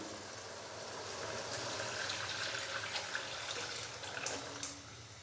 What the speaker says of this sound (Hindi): तो उसी हिसाब से ही अभी मैं इसके अंदर डालूंगा 1 लीटर से थोड़ा सा ज़्यादा पानी।